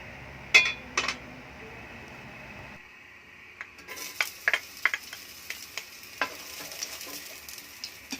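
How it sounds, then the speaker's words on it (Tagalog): Ground pork sautés with onion and garlic in hot oil, a soft sizzle broken by a sharp change partway through, then repeated clinks and scrapes of a utensil stirring against the pan. "igisa natin yung ating giniling sa sibuyas at bawang"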